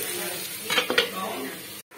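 A lid being set onto a pan of frying brinjal with crushed garlic, a couple of close metallic clanks over a soft background sizzle, then an abrupt stop.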